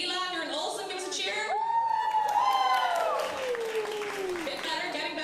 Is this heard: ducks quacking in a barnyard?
no